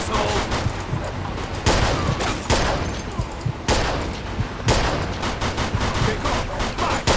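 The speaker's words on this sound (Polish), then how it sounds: "No, strzelają." Gunfire in the video game Mafia 2, a dense, continuous fusillade of shots and impacts that runs through the whole stretch and rises in bursts, with a voice talking over the shooting.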